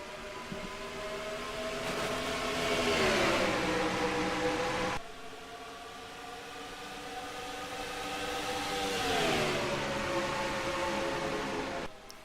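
Race trucks accelerate at Atlanta Motor Speedway in an ISCR Axalta Trucks Series sim-racing event. Two long engine passes rise in a rising, sweeping drone with no talk.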